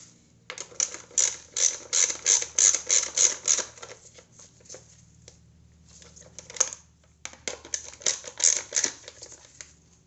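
Valve cover bolts being snugged on a 2009 Kia Rio5 engine, close-up rapid ratchet clicking in several bursts with short pauses between them, no talking.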